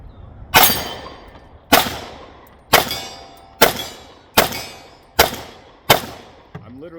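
Seven loud, sharp gunshots from an STI Grandmaster pistol with a compensator at a shooting range, fired at a steady pace about a second apart, each with a ringing decay.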